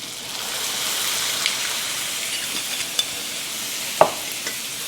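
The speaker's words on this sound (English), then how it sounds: "I really don't like using the metal spatula because it creates a lot of noise for you guys" A metal spatula scraping across a hot pan while deglazing beef for beef and broccoli: steady broad sizzle with a few short scrapes and clicks, including one sharper knock near the end, close up, with no talking.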